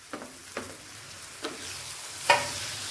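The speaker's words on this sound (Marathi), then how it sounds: "व्यवस्थित मिक्स करून घ्यायची आहे ही टोमॅटोची प्युरी" Tomato puree being stirred into a hot, oil-separated spice masala, with a faint steady sizzle broken by four scraping strokes, the last one louder.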